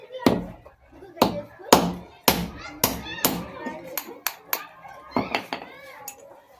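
A hammer strikes a shaft out of an air cooler motor in a series of sharp metallic blows, close and loud, irregular with short pauses, the later hits lighter and quicker.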